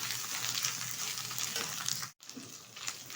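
Ginger garlic paste, green chillies and onion frying in hot oil, giving a steady close sizzle with a brief dropout near the end before the crackle resumes.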